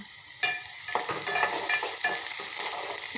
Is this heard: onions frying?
yes